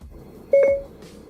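A Lexus in-car voice command system gives a single short electronic beep after the off-hook button is held, clear and close in a quiet cabin.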